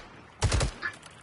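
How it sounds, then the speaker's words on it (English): Video game gunshots crack in a short, fast burst of three or four shots, fairly close and loud, followed by a fainter echo, with no talk over them. "Okay, gunshots sound normal, so I think I'm good."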